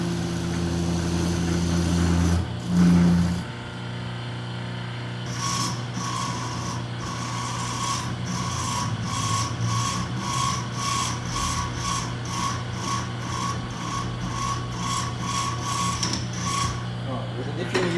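A wooden pin is shaped and sharpened to a point, giving repeated rhythmic rasping strokes that settle into a regular scraping pattern over a steady low hum, close and moderately loud, with no talking.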